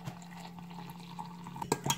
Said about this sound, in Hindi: ये 1 कप जो है नीम गर्म पानी है